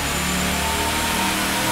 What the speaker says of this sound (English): So we just made a couple of dyno pulls.